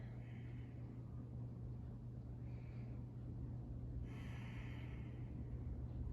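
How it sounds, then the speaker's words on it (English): During a yoga flow, a person breathes forcefully in and out through the nose in three separate hissing bursts over a constant low hum. The breaths are close but fairly faint. "Still breathing in and out through the nose, moving the breath through you intentionally and forcefully"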